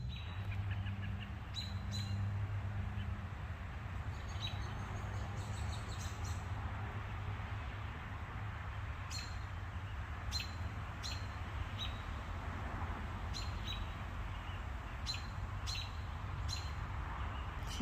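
Small wild birds chirp and tweet in short bursts around a backyard seed feeder, fairly faint and intermittent, with quiet outdoor ambience between calls.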